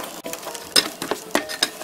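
Napa cabbage kimchi being tossed by hand with a seasoning paste of ground aromatics, salted shrimp brine, chilli flakes and ginger syrup, giving soft, wet squelching and patting strokes in an uneven rhythm, close and alone.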